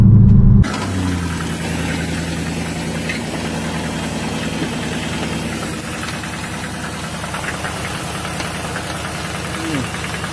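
A 2006–2010 Dodge Charger Hemi idles with a persistent, rapid mechanical ticking and knock riding over a steady engine drone, heard up close after a brief louder burst at the start.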